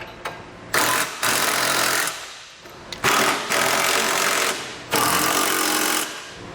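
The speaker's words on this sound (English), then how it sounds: "we can go ahead and snug all of our hardware down" Power tool snugging down Curt trailer hitch bolts on a 2017 Ford Transit Connect, three loud rattling bursts of a few seconds each, separated by short pauses, close and with no talk.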